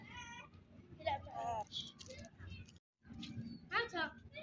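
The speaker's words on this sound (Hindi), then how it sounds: "ये 2 बिल्लियां हैं इधर।" Two cats meow repeatedly, several high mewing calls close by, mixed with people talking, at a fair with animals in Riyadh, Saudi Arabia.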